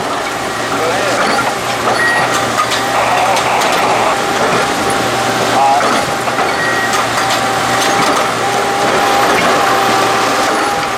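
A railroad tie replacement machine pulls old wooden crossties from under the rail, making a loud, steady mechanical rumble with grinding and clanking layered throughout.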